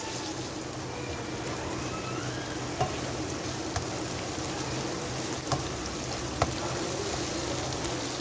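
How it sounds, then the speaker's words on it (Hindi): Bitter gourd frying with ginger garlic paste in a pan, a steady close sizzle with faint crackles and a few light clicks of stirring, continuous throughout with no voices. "अब हम इस स्टेज पे इसके अंदर 1 चमचा भर के अदरक लहसुन का पेस्ट डालेंगे और इसके साथ इसको भून लेंगे।"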